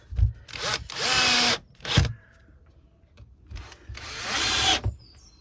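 A power drill drives small screws into a wooden stand for a light tree, in several loud, close whirring bursts of about a second each, separated by short pauses.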